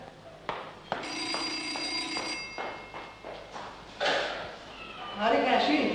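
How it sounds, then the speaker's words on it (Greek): An old-fashioned telephone bell rings indoors in a Greek drama, with a bright, sustained metallic trill. A voice and household movement follow. "Το τηλέφωνο."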